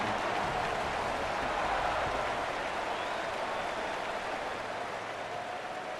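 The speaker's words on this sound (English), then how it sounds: "Night games are always so loud, so obnoxious, and these fans, they get something to cheer about with that first offensive possession." Stadium crowd noise from a night college football game in EA Sports College Football 27, a dense, steady roar of cheering fans that holds loud and continuous throughout with no clear voices above it.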